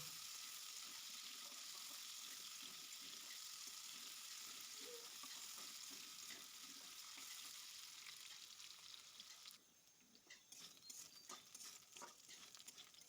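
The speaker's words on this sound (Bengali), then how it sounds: "ওই কড়াইতে আবারও আমি একটু সরিষার তেল দিয়ে আলুগুলোকে ভেজে নেব" Potatoes frying in mustard oil in a wok (kadai) for a bhindi-aloo dish give a steady, dense sizzle that drops suddenly near the end, then continues as a thinner, crackling spatter with no talking.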